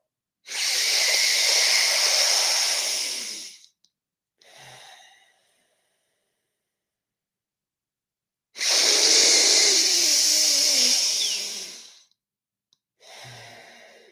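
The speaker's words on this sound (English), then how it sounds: "Feel yourself breathe in against the resistance from the air and possibly from the belt." Slow deep breathing drawn in against resistance from the air and a belt, with two long loud hissing inhales, each followed by a short softer exhale, separated by silence in an unhurried rhythm.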